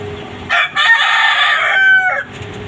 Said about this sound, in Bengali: সুন্দর ডাকতেছে মোরগগুলো